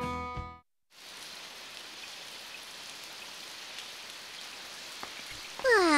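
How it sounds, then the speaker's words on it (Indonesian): Steady rain hisses down after a brief silence, with a few louder drips and a short tonal sound near the end. "Hujan setiap hari menyebalkan ya."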